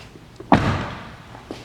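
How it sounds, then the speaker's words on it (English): A soft-close door on a 2017 BMW 540i xDrive pulls shut with one solid, muffled thunk up close, followed by a faint brief tap about a second later. "yep, so it's a soft closed door."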